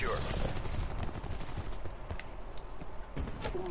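Rapid gunfire from a video game rifle like the AMR rattles in dense, continuous bursts close up, with scattered shuffling in between and no voices.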